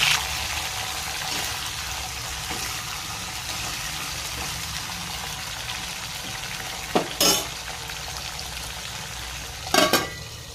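Chilies, cumin, mustard seeds and curry leaves sizzle steadily in hot oil in a pan, a constant close frying hiss with a couple of brief sharp clinks of a utensil stirring.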